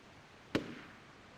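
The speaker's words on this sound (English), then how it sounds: "Gunshots?" A single sharp gunshot bang from the video game Shadow of Destiny, a sudden loud crack with a short decaying tail, standing alone against quiet background.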